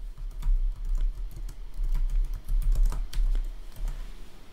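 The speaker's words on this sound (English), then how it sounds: "so I'll type sysdiag disable star." Typing a command on a computer keyboard to disable system diagnostics on a Schneider Electric SCADAPack controller: a steady run of close, crisp key clicks with brief pauses, no talking.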